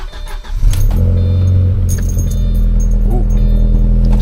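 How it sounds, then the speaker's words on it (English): A B6 Audi A4 1.8T engine, at 239K miles, starts up close and settles into a loud, steady idle, with a brief jingle of keys at the start. "let's go ahead and start the car"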